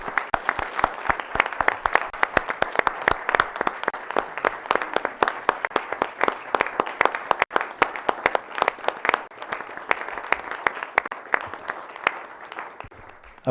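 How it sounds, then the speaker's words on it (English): A round of applause from people in a council chamber: many hands clapping in a brisk, dense patter that carries on steadily for several seconds before thinning slightly near the end. "give these people a round of applause for helping us."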